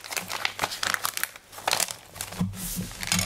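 A plastic zipper bag crinkles and rustles close by as salted cherry trout is packed into it, in irregular bursts of sharp crackling handling noise with no talk.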